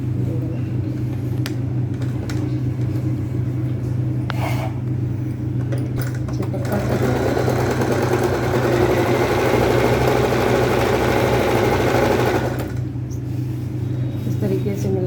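A sewing machine runs steadily while stitching a petticoat, its mechanical hum rising louder for several seconds in the middle before easing back, with someone talking over it.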